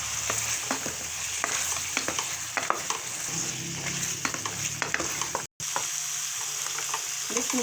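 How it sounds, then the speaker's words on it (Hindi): Chicken neck and potatoes fry loudly in a pan, a steady close sizzle broken by frequent scraping stirs, with a brief dropout near the end. "अब डाल दिए आलू,"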